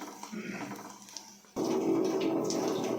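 Fresh fenugreek leaves rinsed under running water in a kitchen, a steady close splashing stream that starts abruptly partway through and continues loudly, preceded by softer handling noise.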